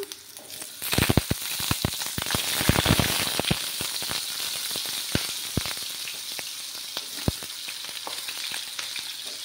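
Diced potatoes sizzle and fry steadily in a hot pan, a loud continuous crackle with bursts of sharper pops and spatters early on, then settling into an even hiss.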